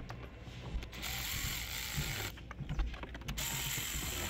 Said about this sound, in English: Using my Milwaukee ratchet here.